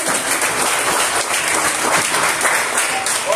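Sustained applause from a church congregation during a worship service, a dense steady wash of many hands clapping together at even loudness for the whole stretch, with faint voices mixed in.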